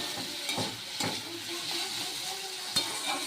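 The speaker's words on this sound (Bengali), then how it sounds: "আলুগুলো ভেজে নিচ্ছি।" Potatoes fry in hot oil with a steady soft sizzle, broken by occasional scrapes and taps of a spoon stirring in the pan, fairly quiet with no talk.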